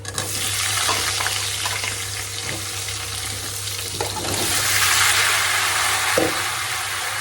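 Pumpkin pieces fry in hot oil over a browned spice tempering, giving a loud, steady close sizzle that swells midway, with a few faint clinks from stirring.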